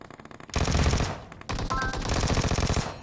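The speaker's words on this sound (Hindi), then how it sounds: "ये मैंने प्री फायर दिया और ये बंदा प्री फायर में नॉक हो गया" Rapid automatic gunfire from PUBG Mobile, a short burst followed by a brief pause and then a longer sustained volley of loud, close shots, with no talking.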